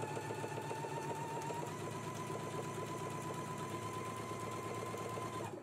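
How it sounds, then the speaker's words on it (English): A sewing machine runs continuously along a waist seam at 5/8-inch allowance, a steady rapid mechanical whir and needle patter that stops at the end, close and fairly quiet with no talk. "let's go ahead and stitch all the way along the waist seam, following along with that basting stitch at a 5/8 of an inch seam allowance"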